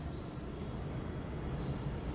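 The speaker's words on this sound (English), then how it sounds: "Here's our train" A train pulling into a station in Delhi, India, a steady, dense rumble of rolling wheels and carriages that holds at an even level throughout, with no voices.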